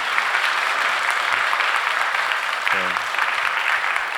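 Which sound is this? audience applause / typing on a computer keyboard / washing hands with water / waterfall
audience applause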